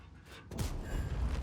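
An artillery shell hitting a tank in World of Tanks, a sudden heavy boom with a low rumbling tail following a quieter lead-in.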